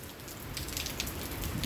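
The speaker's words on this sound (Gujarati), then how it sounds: "બાકી જોરદાર વરસાદ છે" Heavy rain pours steadily on a village farm in Chhara on a windless early morning, a dense continuous patter that swells slightly louder toward the end, with no voices.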